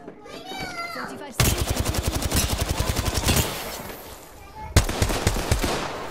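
Rapid automatic gunfire in a video game rattles out in a long, loud burst of evenly spaced shots, pauses, then resumes with another sharp burst, while high-pitched voices chatter beforehand.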